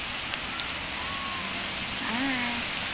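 Steady rain falls outside on Halloween night, a constant hiss of drops under faint voices and a rising, gliding tone.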